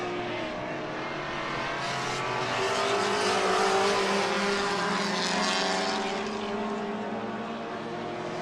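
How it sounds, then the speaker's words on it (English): A Ford Mustang race car roars past during a vintage racing event at a festival of speed, its engine swelling to a peak midway then fading as it moves away. "Mustang, which just went by us"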